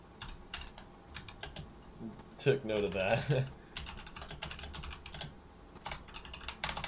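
Quick, irregular clicks of keys being tapped on a computer keyboard continue throughout at moderate volume, while a person talks briefly over the typing.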